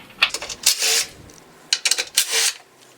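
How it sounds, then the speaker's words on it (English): Quick metallic ratcheting and rattling bursts sound up close as 13mm bolts come out of a BMW E36 M3 front bumper, with short clinks and pauses between spins. "we're going to be taking out those two 13mm bolts on the passenger side of the front bumper"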